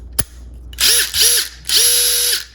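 A Makita XDT16 impact driver fitted with flex bits whirs in three close, loud bursts, two short and one longer, its motor pitch rising and falling with each screw driven, after a single sharp click at the start.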